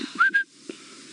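A brief two-note human whistle, sharp and close, rising then holding, over a low background hum, on an evening safari drive.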